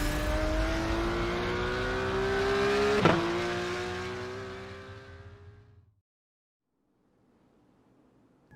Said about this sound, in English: This is the Porsche Tag Heuer Esports Supercar.